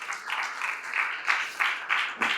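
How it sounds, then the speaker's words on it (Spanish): Congregation applauding in a church service, a sustained wash of many hands clapping with rhythmic surges, moderately loud and steady throughout. "un aplauso al Señor"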